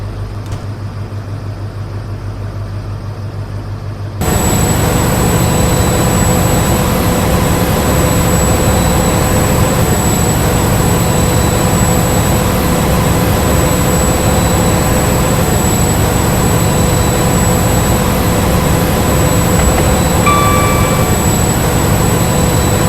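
Class 43 locomotive running on a passenger service, heard from the cab: a steady, loud, continuous engine drone and rumble that starts abruptly after a few seconds of quieter hum and holds evenly to the end.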